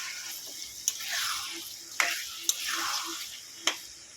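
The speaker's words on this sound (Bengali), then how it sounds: "ভালো করে এটা পাঁচ মিনিট আমি মশলার সঙ্গে কষিয়ে নেব" Chicken is sautéed with spices in a pan for posto chicken, a soft steady sizzle punctuated by several sharp metallic clinks of a spatula against the pan at irregular intervals.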